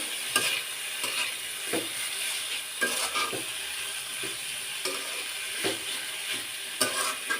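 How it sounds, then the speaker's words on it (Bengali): Potatoes with turmeric and salt get stirred in a frying pan, giving a steady run of scraping strokes with regular sharp knocks over a continuous sizzle. "এখন এখানে দিয়ে দেবো আমি হলুদের গুঁড়ি আর সাথে দিয়ে দেবো লবণ আবার একটু ভালো মতো নেড়ে চেড়ে একটু ঢাকনাটা ঢেকে নেবো"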